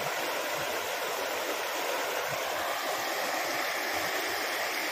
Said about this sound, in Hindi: पानी अगर दिखाऊं तो मैं आपको, कितनी जोरों से चल रहा है